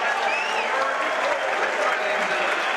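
A home crowd cheers and applauds at the Big Ten wrestling championships after a Wisconsin win, a loud continuous roar with a few whistles rising above it.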